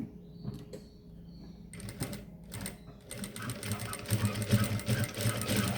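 A sewing machine stitches a waist seam on a garment, its rapid mechanical chatter starting in short bursts and then running steadily and louder near the end, with faint speech in the background.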